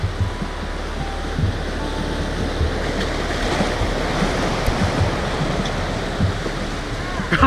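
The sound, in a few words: ocean waves and wind on a beach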